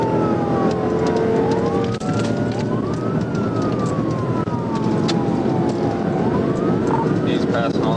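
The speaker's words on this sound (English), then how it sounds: "they hear the siren pulling up" Police car siren wailing during a freeway chase, the rising and falling tone repeating continuously over heavy road and engine noise, close and loud.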